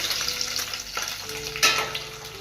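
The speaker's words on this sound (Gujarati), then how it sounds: "તેલ ગરમ થઈ ગયું છે હવે આજે કાંદા અને કેપ્સિકમ જેને મેં ક્યુબમાં કટ કરીને રાખ્યા હતા એ એડ કરી રહી છું" Onion and capsicum cubes fry in hot oil, a steady close sizzle with crackling bursts and a louder flare as they hit the pan, no voices.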